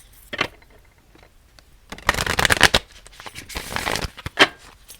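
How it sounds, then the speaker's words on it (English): Tarot cards from a Kim Krans animal deck being shuffled by hand, a brief riffle early and then a longer, loud burst of crisp shuffling, followed by softer card handling and one sharp snap near the end. "I'm going to shuffle one more time"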